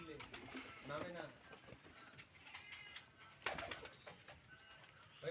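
Madrasi pigeons coo softly and repeatedly at close range while people talk over them, with occasional rustling and wing movement.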